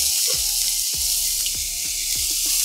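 Finely chopped medium onions and a pinch of cumin seeds dropped into hot oil for veg spicy Maggi, a steady loud bright sizzle with several soft clinks of a spoon against the pan.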